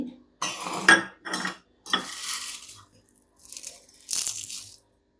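A metal spoon scrapes and clinks against a hot pan in short bursts of stirring dried mint and spices, separated by brief pauses.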